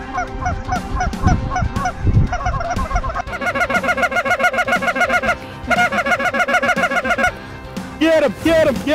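Loud, repeated honking from Canada geese during a snowy goose hunt in Lubbock, Texas, a dense chorus of overlapping calls that pauses briefly a few times, with some rustling noise early on.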